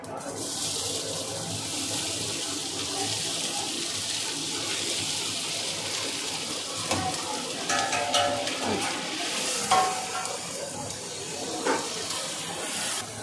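Onions sizzle in sunflower oil as they are stirred for a vegetarian meal: a steady, dense frying hiss with occasional scraping and clatter from the stirring.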